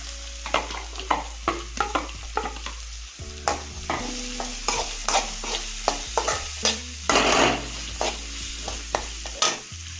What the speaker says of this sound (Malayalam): രണ്ട് മീഡിയം സവോള ചെറുതായി അരിഞ്ഞത് ഇതിൻ്റെ കൂടെ ചേർക്കുന്നു